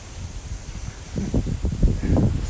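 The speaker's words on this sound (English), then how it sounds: "So windy, so windy." Wind blusters across a small balcony garden of potato and tomato plants, a rough hiss with gusty low rumbling against the microphone and faint leafy rustling that grows stronger in the second half.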